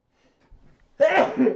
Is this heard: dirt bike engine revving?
no